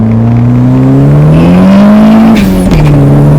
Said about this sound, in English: so with this much power, it really moves